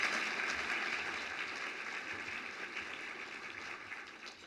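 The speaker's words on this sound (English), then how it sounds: "So if we could give them a round of applause" Applause from a luncheon audience at a housing awards event: a steady, fairly faint wash of clapping that holds for several seconds and tapers slightly toward the end.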